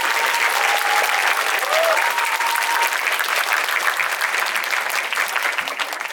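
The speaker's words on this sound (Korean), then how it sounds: "오늘 와주신 분들에게 일단 박수로 시작을 하겠습니다" A cinema audience at a post-screening talk breaks into sustained, dense applause that stays loud throughout, with a brief voice over it at the start.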